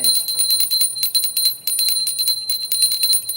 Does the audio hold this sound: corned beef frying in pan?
no